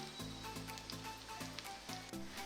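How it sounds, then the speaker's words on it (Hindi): An aloo tikki potato patty fries in a pan, giving a steady, close hiss of sizzling oil with faint crackles, continuous and uninterrupted with no talk. "मैं इसको अच्छे से फ्राई होने दूंगी।"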